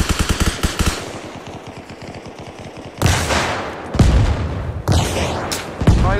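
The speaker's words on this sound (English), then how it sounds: "I'm getting shot" Gunfire in the military shooter Arma Reforger during a team match: rapid automatic bursts open the clip, then loud, sharp single shots and short volleys crack out every second or so, close and unaccompanied by talk.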